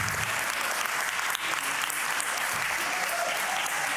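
Enthusiastic audience applause at a civic event in Amsterdam, a full, continuous wash of clapping from many hands, loud and unbroken apart from a brief dip.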